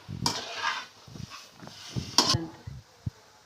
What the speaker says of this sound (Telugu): ఖర్జూరం వేసి కొంచెం అలా కలుపుతున్నారు